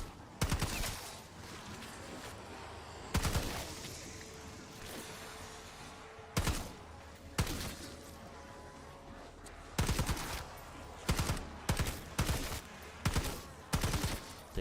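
Gunfire in Black Ops 6 zombies mode: loud bursts of automatic weapon fire break out repeatedly, some single and some in rapid clusters, over a continuous game ambience.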